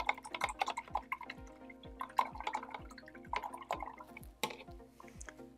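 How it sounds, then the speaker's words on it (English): A paintbrush swished and tapped in a water container while acrylic landscape painting, giving a quick run of small drips and splashy taps, fairly close and moderate in level, with no talking. "I'm going to wash my brush."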